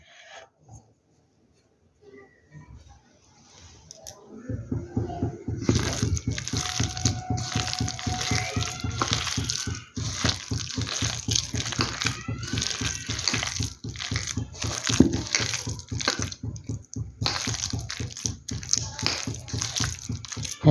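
Grated bottle gourd being mixed with gram flour by hand, a rhythmic wet squelching and rubbing that starts after a near-silent opening and continues steadily.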